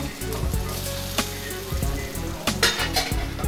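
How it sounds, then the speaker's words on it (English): Parsnips, carrots and celery sizzle loudly in a hot pan, with steady frying crackle and occasional clinks and scrapes of a utensil stirring against the pan. "in with the vegetables and let those cook up till they're nice and tender"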